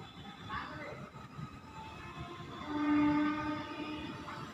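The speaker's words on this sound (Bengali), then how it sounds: "দেখো ওই দেখো ট্রেন দেখা যাচ্ছে আমাদের বাড়ি থেকে চলে গেল।" Train rolling past near Khagra station, heard from a nearby rooftop: a steady rumble with a brief horn-like tone rising in the middle, with faint voices around.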